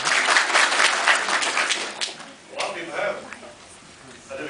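A symposium audience breaks into a brief burst of applause that is strongest at first, then fades into scattered claps, with a voice talking over the thinning sound.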